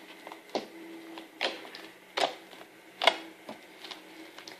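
Sticky, squelchy clicks and pops from thick glitter slime being mixed by hand, a handful of sharp crackles standing out over a quiet, steady background.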